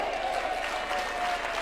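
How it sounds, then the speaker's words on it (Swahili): Crowd applauding steadily at a Kenyan political rally addressed by President Ruto, a dense, continuous clapping wash heard from within the audience throughout. "Pigeni makofi."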